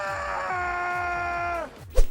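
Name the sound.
mugged character screaming in GTA Online video game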